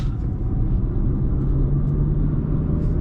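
A 2012 Fiat Albea 1.4 driving uphill in third gear on a road toward Marmaris, its engine giving a steady low drone and rumble under load, constant and close, with no talking.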